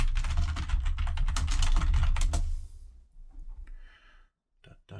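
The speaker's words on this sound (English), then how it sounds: "I almost never clickety-clack on keyboards for this, but now I want to know" Fast typing on a computer keyboard clatters in a dense burst of close, loud key clicks for about three seconds, then thins to a few scattered taps.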